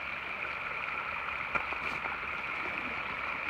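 Steady broadband rush of moving river water at a ferry crossing on the Appalachian Trail, continuous and even throughout, with one faint brief knock partway through.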